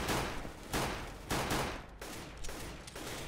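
Sustained bursts of gunfire in Counter-Strike: Global Offensive, several loud volleys in a row with short gaps, no talking.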